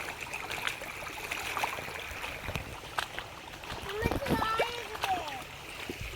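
Feet wade and splash through shallow stream water on a rocky path to school, with a steady trickling flow and a cluster of louder splashes near the end, while voices talk over it.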